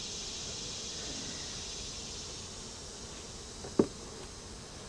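Honey bees from an opened beehive, a steady close buzzing drone throughout with one brief knock near the end.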